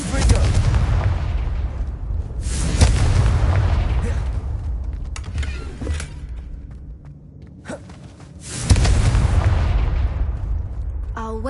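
The Confringo blasting spell in Hogwarts Legacy detonates in heavy, booming explosions, loud and close, with rumbling bursts recurring through the stretch and a short vocal sound between blasts.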